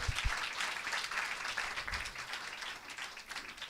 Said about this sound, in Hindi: परमेश्वर के लिए तालियां बजाइए बहुत तेज परमेश्वर के लिए।